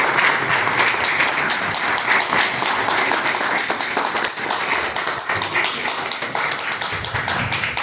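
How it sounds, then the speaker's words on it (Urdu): A gathering of party officials at a political meeting gives the party chairman loud, dense applause. It is a continuous wash of many hands clapping close by, steady from start to finish. "آپ کی تالیوں کی گونج میں"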